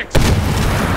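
A grenade explodes in the Medal of Honor Warfighter shooter game: a sudden loud boom bursts in after a brief quiet moment and rolls on as a sustained, dense rumble.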